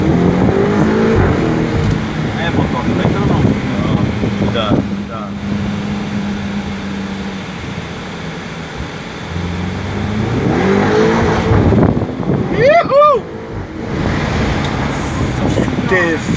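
A BMW 3 Series engine drones and revs while driving, a continuous loud roar with surges of acceleration, and excited voices talk over it.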